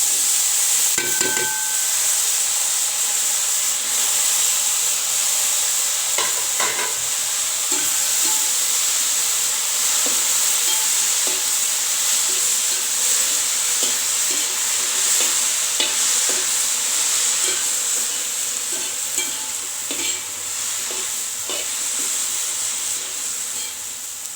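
Taro stems and sweet potato stir-fried in a pan, a steady close sizzle and hiss lasting throughout, broken by frequent scraping and tapping of the stirring utensil against the pan.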